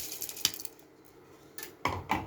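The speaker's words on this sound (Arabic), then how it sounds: "هنزل عليه بالرز اهو. وهنزل عليه بالشعريه اللي انا محمراها اهو." Rice and toasted vermicelli tipped into a pot of nearly cooked lentils for Egyptian koshari, giving a few scattered light clatters and pours with quieter gaps between them.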